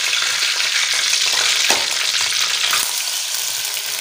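Boneless chicken frying in hot oil gives a loud, dense, continuous sizzle with a couple of brief sharp knocks partway through.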